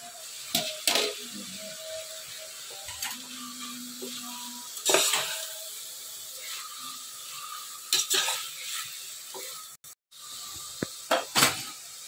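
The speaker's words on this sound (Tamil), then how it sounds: "புதினா, புதினா கொத்தமல்லி, கொத்தமல்லி புதினா ரெண்டையும் போட்டு நல்லா வதக்கிடணும்" Tomato, green chili, mint and coriander sautéing in a pan for chicken biryani, a low sizzle broken by several sharp scrapes and knocks of a spatula against the pan, close by with no talking.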